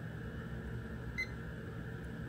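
One short, faint multimeter beep from testing a diode, over a steady low hum and background noise.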